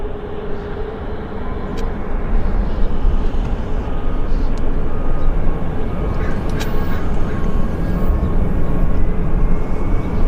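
A WestJet airliner taxis at Vancouver YVR airport, a steady broadband jet engine roar held at constant level throughout, with faint ambient noise around it and no voices.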